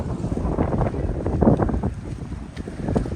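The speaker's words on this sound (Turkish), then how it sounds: "Kıyıda hafif rüzgar var." Steady gusty wind at a beach in Çandarlı, Turkey, buffets the microphone, a continuous low roar with slight rises and falls, no voices.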